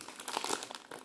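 A packet of Ringo biscuits is opened close up with a brief burst of sharp plastic crinkling and crackling.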